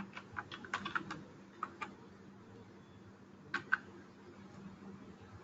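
A computer keyboard tapped to enter a role name in Oracle Fusion Financials software: quiet, close keystrokes in short uneven bursts with pauses, then a couple of isolated clicks over a low hum.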